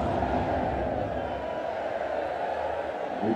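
A dense stadium crowd roars and cheers loudly and steadily at a beach volleyball final, the Klagenfurt Major 2016, during a crash wave across the stands, with a broad wash of many voices throughout.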